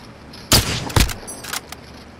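Sniper fire in a first-person shooter video game: two sharp, loud reports about half a second apart, followed by a few fainter shots trailing off, with no voices over them.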